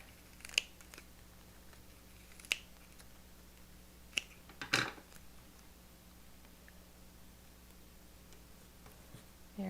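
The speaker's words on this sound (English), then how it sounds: "we're going to cut this one in half" A few sparse, sharp snips of scissors cutting paper pieces for a handmade mini album, spaced seconds apart and heard close against a quiet room with a faint hum, no speech.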